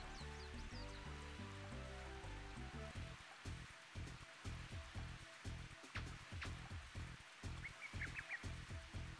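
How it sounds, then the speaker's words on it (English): Steady rain pattering in Mario Golf, a dense broadband hiss running throughout behind a rhythmic music track. "I forgot it's raining."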